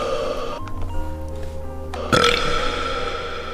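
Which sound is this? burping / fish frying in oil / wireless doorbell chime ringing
burping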